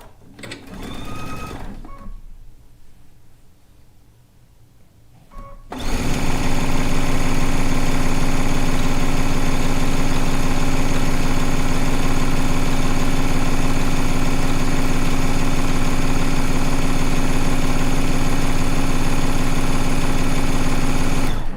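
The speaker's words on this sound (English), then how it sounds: "Let's get some more strips sewn together." A sewing machine stitches fabric strips together for strip piecing. After a few seconds of quiet handling, the motor starts and runs loud and steady, a fast, even whir close by until the end.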